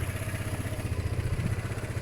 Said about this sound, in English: It's idling nice at the moment.